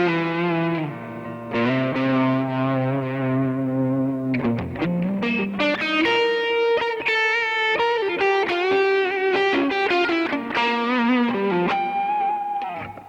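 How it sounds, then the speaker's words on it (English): Les Paul electric guitar, a 2012 '59 Custom Classic in Heritage Cherry, played through a Yamaha THR10C amp with wide stereo hall reverb and light vibrato, sustained chords shifting into quicker picked notes, loud and alone. "I've got like the hall reverb going wide in stereo, and then I have a little bit of vibrato very low"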